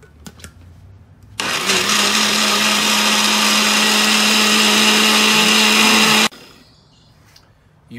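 An electric kitchen blender grinds soaked, skinned soybeans with water for soy milk, a loud steady whirring drone that starts abruptly, runs about five seconds and cuts off, with quieter room noise before and after.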